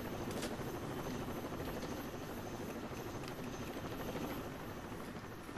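A helicopter in the video game Rainbow Six Vegas 2 gives off a continuous loud, dense rotor roar with a steady throb that fills the whole stretch without pause.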